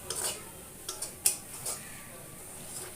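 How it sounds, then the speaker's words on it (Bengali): A spoon scrapes and clinks a few times against a cooking pot while spices, lemon juice and water for an oil-free chicken and papaya curry are stirred, with faint simmering underneath. "এবার এটা দিয়ে আবারও কিছু সময় নাড়াচাড়া করবো"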